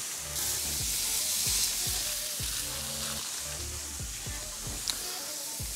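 Smash burger patties sizzle loudly and continuously on a hot griddle, with cheese melting over the flipped patties and occasional scrapes and clanks of a spatula cutting through the steady frying hiss.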